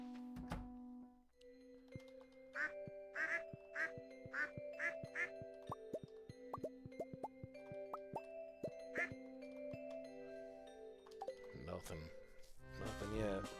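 Cartoonish duck quacks from the Stardew Valley farming game, a string of short bright calls repeating rhythmically over plinking game tones and soft thunks, fairly quiet overall.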